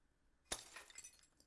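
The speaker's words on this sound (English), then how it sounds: "Was that the sound of breaking glass?" A sharp glass break from the video game Chaos;Child, a single bright crash followed by a scatter of tinkling shards fading over about a second, with no voices.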